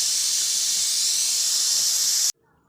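Steam hisses loudly and steadily as pressure is released from a cooking pot of chicken yakhni, a continuous close rush that cuts off abruptly near the end, leaving near silence.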